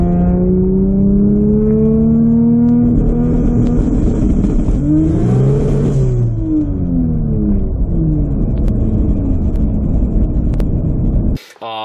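A 2JZ-powered car launching hard with rolling anti-lag, its engine screaming up through rising revs in loud, close sweeps, easing off midway and climbing again before an abrupt cut.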